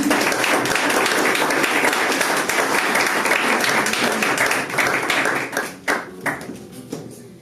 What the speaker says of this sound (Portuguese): E as palmas louvam o Senhor.